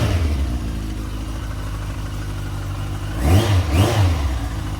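A Yamaha XJ900S Diversion motorcycle engine with a 2-to-1 exhaust idles steadily close by, then revs up twice in quick succession near the end, loud and with no talk over it.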